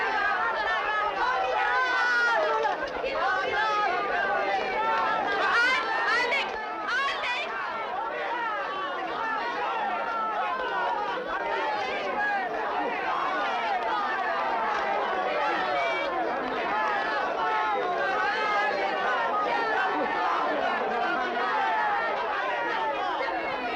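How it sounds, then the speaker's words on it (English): Dense crowd chatter fills a busy public place in Italy, a steady babble of many overlapping voices, close and continuous throughout with no single voice standing out. "Well, come on, let's get out of this crowd."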